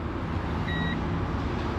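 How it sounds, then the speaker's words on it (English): A 2026 Fiat Topolino gives a single short electronic beep as its key is turned on, clear but modest above a steady hum of ambient noise. "It'll beep at you to let you know it's on and ready to rock and roll"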